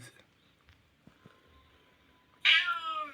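A cat gives a single loud, close meow that bursts in suddenly near the end after a few seconds of quiet room noise, with faint knocks before it.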